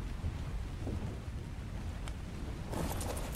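Rain falls steadily in the game Ark, a dense hiss of drops with low rumbling underneath, continuous throughout and swelling slightly louder toward the end, with no voices over it.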